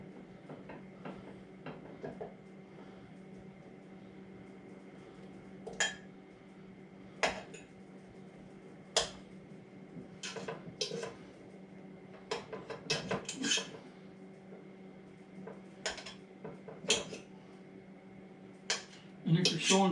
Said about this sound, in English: I've got my stock pot. I've got a half a stick or a quarter cup of butter that I'm going to melt.